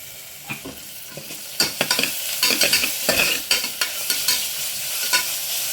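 Ginger garlic paste fries in a pan while a utensil stirs it, sending repeated scraping clicks and knocks over a bright, constant sizzle, close and fairly loud, without talking.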